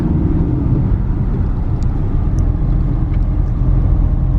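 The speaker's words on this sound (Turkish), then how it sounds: "Trafik başladı." Continuous road traffic rumble on a festival morning, a steady low engine drone of passing cars with no clear breaks, fairly loud and close, with faint higher noises scattered on top.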